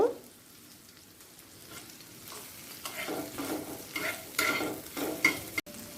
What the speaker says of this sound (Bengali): ফোড়নে দিয়ে দেব কালো জিরে